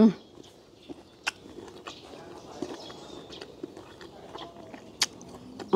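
Crisp bites and crunchy chewing of sour green mango eaten with Thai shrimp paste, a handful of sharp, close crunches spread across a quiet background.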